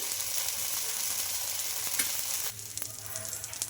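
Rava dosa batter of wheat flour and spinach fries in oil on a pan, crackling and sizzling steadily close by, then dropping to a quieter, lighter sizzle near the end.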